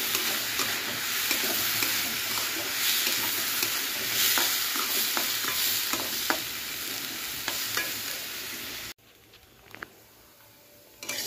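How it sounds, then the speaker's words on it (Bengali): Lentils fry and get stirred in a pan, a dense steady sizzle with scraping stirs and small pops, ending abruptly as the sizzle drops away to near quiet. "এই দেখো ভাজা ভাজা করে নিচ্ছি, লাল লাল করে ভালো করে ভেজে নেবো"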